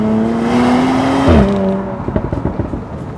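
A 2026 Audi Q5 SUV engine revs up and climbs in pitch, then drops briefly as a gear shift comes before accelerating again, heard from nearby.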